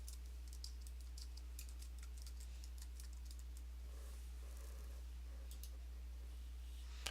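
Computer keyboard typing, quick light clicks in a few scattered clusters, faint and close over a steady low electrical hum.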